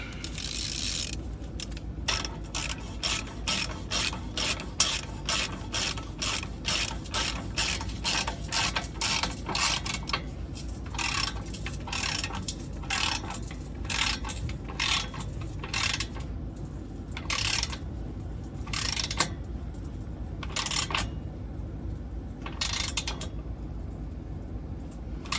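A ratchet tightens the downpipe bolts on a BMW X3 35i F25 with an N55 engine: a long run of close, rhythmic clicking strokes and pawl chatter with short pauses between them.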